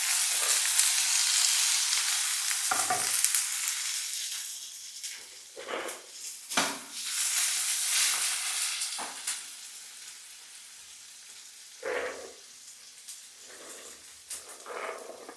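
Green chillies frying in a pan, a loud continuous sizzle and crackle that swells and eases, with several sharper bursts as the oil spits.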